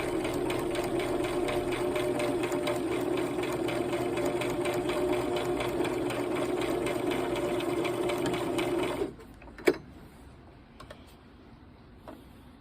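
A domestic sewing machine runs steadily at slow speed, stitching a straight line near the fabric edge with a continuous close whirring hum that stops abruptly, followed by a sharp click and faint handling noises.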